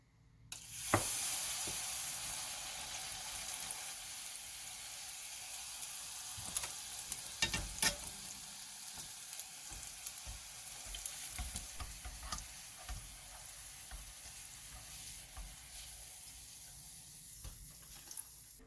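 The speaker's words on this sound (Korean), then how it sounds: "뜨거운 기름에 감자 으깨기를 달궈줄 겁니다. 어느 정도 달궈졌으면 반죽을 묻혀서 튀겨주세요." Battered mashed potato fries in hot oil, giving a continuous close sizzle with scattered small pops and crackles throughout, and no speech.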